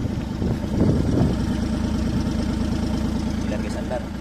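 A Suzuki DA64V with a K6A engine idling roughly with a misfire, a close, uneven low rumble and stumbling pulse, with someone speaking over it.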